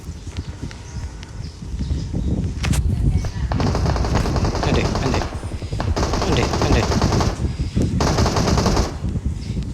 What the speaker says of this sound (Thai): เป็นยิงเอ็มสองสี่ว่ะ